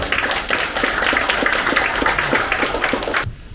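Audience applause welcoming the chairman's greeting at a New Year's reception in a hall: a dense, steady patter of many hands clapping that stops abruptly near the end.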